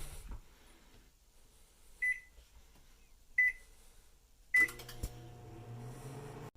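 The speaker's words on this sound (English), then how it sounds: "Butter is going in the microwave." Microwave oven set to soften butter gives three short, sharp beeps a second or so apart, then starts up with a steady low hum and fan whir, close by in an otherwise quiet kitchen.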